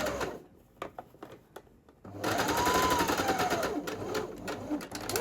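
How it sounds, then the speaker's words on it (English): A sewing machine stitches a facing around an armpit hole, starting with a few separate clicks and short stitches, then running continuously in a close, steady mechanical whir. "So now I sew around the armpit hole, the facing."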